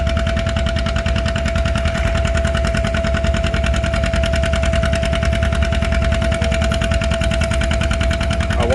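Antique tractor engine laboring steadily through a pull at an antique tractor pull, a loud continuous drone with a steady whine and no breaks, close and alone throughout.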